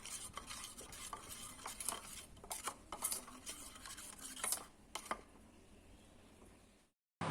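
A spoon stirs a paste of poppy seed, mustard, mustard oil, turmeric, chilli powder and salt in a bowl, heard as soft repeated scraping clinks at close range, quiet and alone.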